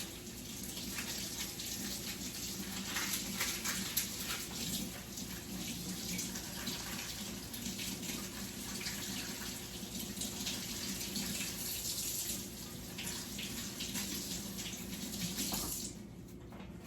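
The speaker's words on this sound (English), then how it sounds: "I am going to give my onion a rinse" Tap water runs steadily into a sink while a red onion is rinsed under it, a continuous soft splashing hiss that carries evenly throughout.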